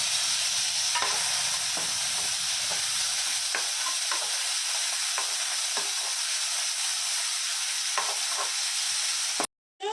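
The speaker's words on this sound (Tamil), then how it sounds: "வெங்காயம் நல்லா வதக்கி விடணும்." Onions and tomato sautéing with cumin and curry leaves in a pan for a potato fry, giving a steady loud sizzle with spatula scrapes and stirring knocks throughout, cutting to silence right at the end.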